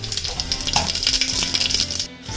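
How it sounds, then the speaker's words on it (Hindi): Garlic and onion fry in a pan for dum aloo, a steady close sizzle with crackling pops and occasional utensil clinks throughout, no voices. "ये लहसुन प्याज वगैरह को भूना जा रहा है"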